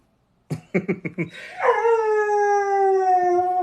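A dog howls in a long, drawn-out, sliding tone after a quick run of short yips and barks, loud and close, with no talk over it.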